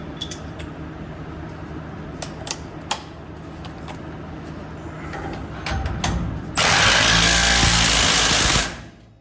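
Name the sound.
impact wrench tightening lug nuts with deep socket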